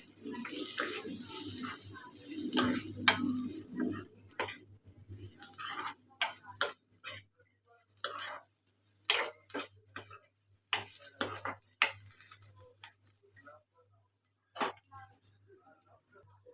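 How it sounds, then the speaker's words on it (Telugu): Ivy gourd fry with coriander powder is stirred in a pan, with a spoon scraping and clinking against the metal in irregular taps, under quiet speech and a steady background hum. "కొద్దిగా ధనియాల పొడి ఇప్పుడు బాగా కలుపుకుంటాం"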